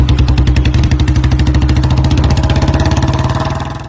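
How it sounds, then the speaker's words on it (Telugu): A Royal Enfield Bullet motorcycle engine idles loudly and up close with a steady, rapid thumping beat. The sound fades slightly in the last half second, and no one speaks. "బుల్లెట్ సౌండ్ వస్తుందిగా అలాగా."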